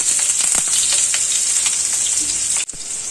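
Chopped onion sizzles steadily in hot oil in a pan, a dense bright hiss with small crackles throughout, ending with a brief stir or clatter near the end.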